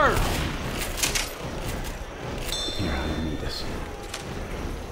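Gunfire aimed at a charger in Left 4 Dead 2, a quick run of nearby shots with metallic clanks over constant game noise while a player shouts.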